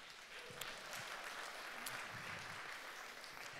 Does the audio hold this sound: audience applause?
yes